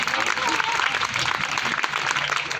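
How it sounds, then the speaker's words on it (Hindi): An audience at a Hindi comic poetry gathering breaks into dense, continuous clapping for a couple of seconds, loud and steady throughout. "भाई मजा आ रहा तो जोरदार तालियों से स्वागत।"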